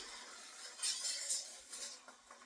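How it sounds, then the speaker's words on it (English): A quesadilla sizzles softly and steadily in a pan with a few brief louder crackles and faint clinks, fairly quiet and close. "You hear it sizzling?"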